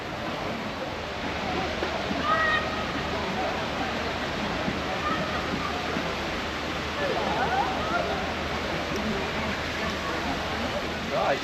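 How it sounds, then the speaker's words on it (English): The Holbury Cascades water features in Sheffield's Peace Gardens rush and splash steadily without a break, a dense, full wash of falling water on a busy day with faint crowd murmur beneath. "these water fountains or water features are actually called the Holbury Cascades"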